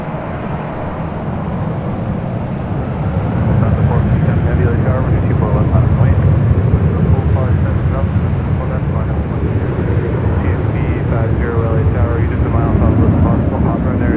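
A Southwest airliner starting its takeoff roll on LAX runway 24 left, a steady engine roar that grows louder after a few seconds and holds, with radio chatter and voices running over it throughout.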